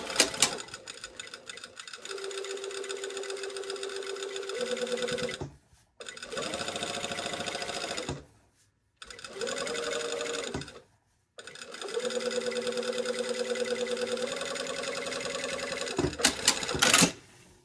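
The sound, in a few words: sewing machine top stitching a dress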